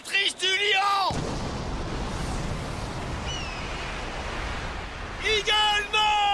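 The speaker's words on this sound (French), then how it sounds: "Explosion dévastatrice du lion!" Devastating lion explosion special attack from the Beyblade anime, a loud sustained roaring blast that fills about four seconds between stretches of music and effects.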